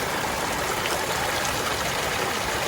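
Stream water rushes and gurgles steadily while filling a CNOC water bag laid in the flow, a constant close, even wash of running water.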